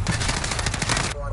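Automatic gunfire in the video game Modern Warfare rattles in a rapid, dense burst of shots, loud and close, stopping abruptly near the end, with faint voices underneath.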